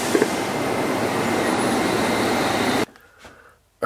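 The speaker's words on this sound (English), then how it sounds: "This is a silver line train via Victoria and Embankment." London Underground train running on a service via Victoria and Embankment, a loud steady rumble and roar that cuts off abruptly near the end, leaving near silence.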